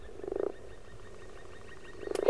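A frog croaks in two short throaty bursts, one near the start and one at the end, with quiet in between. It is a sound effect during a children's picture-book reading of Room on the Broom.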